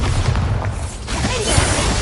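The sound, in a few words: Bombarda spell explosion in Harry Potter video game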